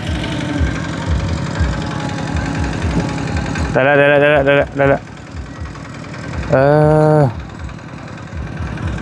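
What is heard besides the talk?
tractor engine idling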